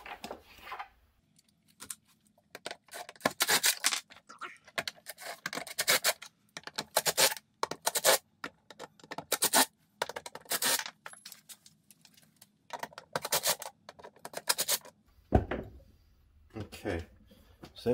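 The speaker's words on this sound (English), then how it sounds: "I'm using a magnet to pull out my screws." Screws are removed from a Stryker SmartPump and picked up with a magnet, giving a string of sharp metallic clicks and clinks, close and irregular, with short pauses and brief talk between them.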